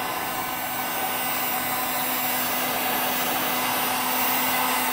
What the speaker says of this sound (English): Just make sure you keep moving the heat gun around so you don't catch something on fire.